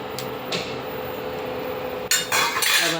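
A lid clatters onto a cooking pot of mung dal, a sharp metallic clink close by after quieter kitchen clatter, with a brief ringing scrape.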